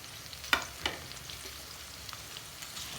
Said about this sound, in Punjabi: ਇਸੇ ਤਰ੍ਹਾਂ ਅਸੀਂ ਪਿਆਜ਼ ਕਰ ਲੈਣੇ ਪਿਆਜ਼ਾਂ ਨੂੰ ਜਿਹੜਾ ਫਰਾਈ ਕਰਨ 'ਚ ਜ਼ਿਆਦਾ ਟਾਈਮ ਨਹੀਂ ਲੱਗੇਗਾ